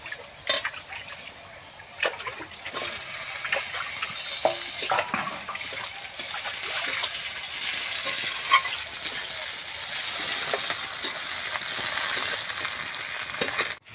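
Chopped tomato joins fried onion in mustard oil in a kadai, producing a moderate, steady sizzle broken by intermittent stirring scrapes and wet pops; no one talks.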